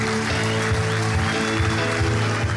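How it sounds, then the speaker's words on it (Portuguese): A church congregation applauds loudly and continuously in a dense, steady wash of clapping, with a sustained musical backing and rhythmic low thumps underneath. "Aplauda o Senhor bem forte."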